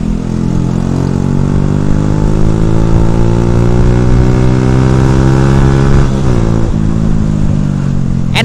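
Honda Revo FI motorcycle fitted with an R9 racing exhaust, a loud, close engine note rising steadily in pitch as the rider accelerates, then a quick drop and climb at a gear change near the end.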